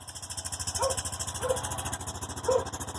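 A fuel-injected Honda Rancher 420 ATV idles right after a cold start, its single-cylinder engine chugging in a fast, steady pulse close by, with a few brief sharper sounds over it.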